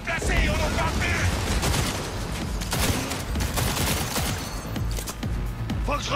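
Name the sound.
gunfire in the video game Cyberpunk 2077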